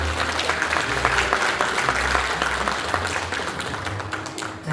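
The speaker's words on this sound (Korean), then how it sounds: "여러분 따뜻한 박수로 맞아주시기 바랍니다" Audience applause greets guests stepping forward at an opening ceremony for a joint medical clinic in a Jeju convention hall, a steady dense wash of clapping that runs unbroken throughout.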